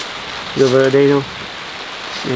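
Steady rain patters on a tent in a constant hiss, while a person speaks over it in short bursts.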